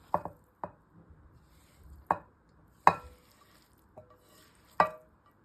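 Beetroot being stirred into yogurt for a salad gives a handful of separate, sharp spoon knocks and clicks against a bowl at irregular intervals over near silence, with no talking.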